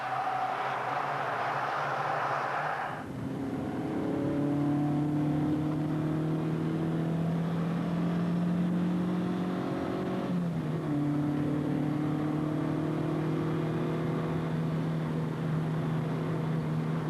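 A pack of race cars bunched together at the first corner of a motor race, engines droning loudly and steadily with rising and falling revs as they pass through.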